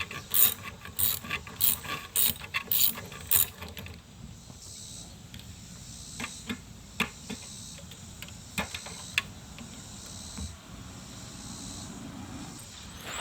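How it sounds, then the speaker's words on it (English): A ratchet on a long extension with a swivel works on the engine mount bolts of a 2016 Dodge Charger RT 5.7L Hemi, giving bursts of rapid clicking up close, then sparser ticks and clanks. "Just using a long extension with a swivel to kind of get down here around all this stuff."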